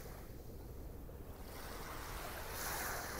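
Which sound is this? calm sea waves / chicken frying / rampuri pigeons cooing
calm sea waves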